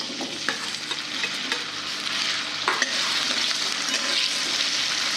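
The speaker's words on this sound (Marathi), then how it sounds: "तेल तापले आहे आता, तर कढईत बटाटा घालू तेलात।" Potato pieces drop into hot oil in a kadhai and fry with a steady close-up sizzle. A few sharp clicks of a stirring spoon cut through, and the frying hiss swells slightly toward the end.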